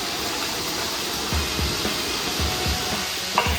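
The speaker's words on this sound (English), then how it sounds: "Just before it finishes melting, we want to just pop the garlic in there and just get it cooked just a little bit" Garlic sizzles in melting butter in a pan, giving a steady close hiss with soft low bumps from the pan throughout and a small clack near the end.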